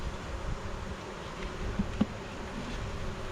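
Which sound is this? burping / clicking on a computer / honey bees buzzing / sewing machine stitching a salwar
honey bees buzzing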